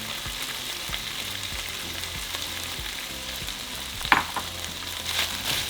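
Pork frying in oil with garlic and onion, a steady close sizzle with occasional stirring scrapes and a sharper crackle midway, no talking.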